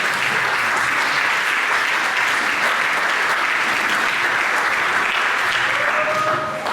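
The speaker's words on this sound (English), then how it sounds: "Give him a round of applause, please." Steady, full applause from a concert audience at a summer music camp performance, clapping loud and sustained throughout with no break, crowd noise beneath it and a faint tone near the end.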